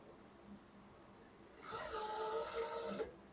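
A sewing machine stitches in a single short, fairly quiet run of about a second and a half against a soft background hiss.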